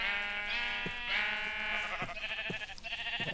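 Sheep bleat repeatedly in a Minecraft game, several overlapping, close and fairly loud wavering cries with a few soft thumps between them.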